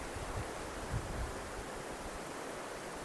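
River water flowing far below a hanging footbridge in Quezon, Nueva Vizcaya, Philippines, a steady broadband rush mixed with wind buffeting the microphone, with a few low thumps early on.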